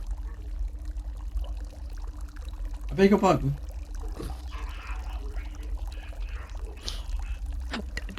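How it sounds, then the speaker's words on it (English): Water pours and splashes from a fountain in Fortnite, a short burst of gushing water standing out against a low steady hum, with a voice speaking briefly. "It's just not rotating and spitting water at you."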